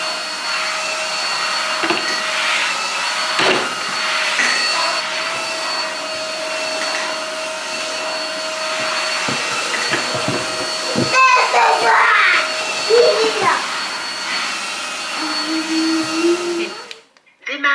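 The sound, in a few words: wet-dry vacuum cleaner running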